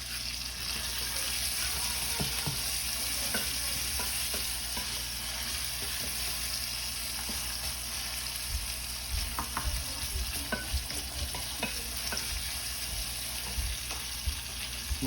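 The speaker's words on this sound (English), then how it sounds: "Stir that around just real quick. Give it a little saute." Chicken sautés in a pan for sweet and sour chicken, a continuous close sizzle with scattered scraping stirs.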